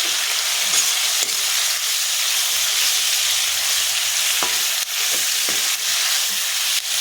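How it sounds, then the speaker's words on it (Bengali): Young jackfruit frying in a pan for chilli jackfruit, a loud constant sizzle close by with occasional sharp scrapes and taps as it is stirred. "এবার একটু নাড়াচাড়া করে নেব, ভালো করে নাড়াচাড়া করে নেব আমি"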